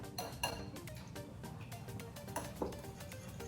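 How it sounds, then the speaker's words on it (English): An almond butter mixture for granola bars being whisked in a bowl, quick irregular clinks and taps of metal against the bowl, fairly soft and close, with no talking. "you want to be able to whisk it into a consistency where it's all mixed together and it's all one"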